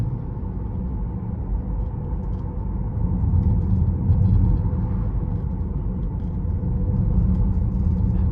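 Inside a 2022 Tesla Model X Plaid on a torn-up road, a low, steady rumble of tyres and cabin noise rolls on throughout, swelling slightly midway, with no talking.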